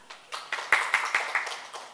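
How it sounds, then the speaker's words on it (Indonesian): Classroom applause after a student group presentation: a short, fairly faint burst of clapping with distinct separate claps, a handful of hands clapping in a loose rhythm, no talk over it. "Tepuk tangan."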